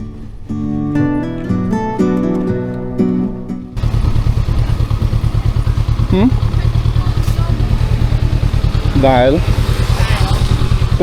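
A faulty motorcycle engine runs at a mechanic's roadside shop in Siem Reap, a loud steady clattering idle with rapid pulsing throb, starting after a few seconds of music, with occasional brief voices over it.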